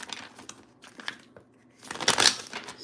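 A deck of tarot cards is shuffled close by, with bursts of papery riffling and crinkling separated by brief pauses, ending in a louder flurry.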